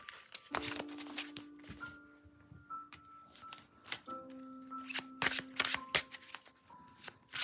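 Chrysalis oracle cards are shuffled by hand in quick riffling bursts with soft slaps between them, close and fairly quiet over faint background music.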